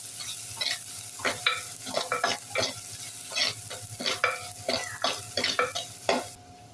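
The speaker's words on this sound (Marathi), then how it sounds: "आता आपण घालूया बारीक चिरलेला कांदा कांदा छान फ्राय करून घेऊया" Finely chopped onion fries in a pan while being stirred, giving bursts of scraping and sizzling in an irregular rhythm, close and fairly loud, with no talking.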